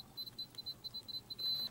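A smart electronic deadbolt door lock's keypad gives a run of quick, high, faint beeps as a code is typed in, one beep per key press and ending in a longer confirmation tone.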